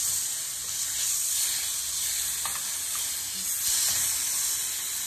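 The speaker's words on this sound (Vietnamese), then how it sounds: "để miếng dầu ăn lên mình nướng thịt nha" Pork ribs grilling on a pan with cooking oil give off a steady, bright sizzling hiss that stays close and even throughout, with no talking.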